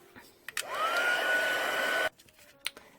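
A heat tool blows steadily for about a second and a half while it melts embossing powder on a stamped card, with sharp clicks as it switches on and off. The whooshing roar is close and loud, with no talk over it.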